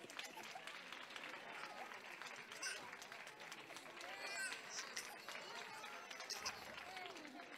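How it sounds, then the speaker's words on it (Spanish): Audience clapping at an end-of-year school festival, a steady wash of many hands with faint voices mixed in, fairly quiet and continuous throughout. "Un fuerte aplauso para Ale."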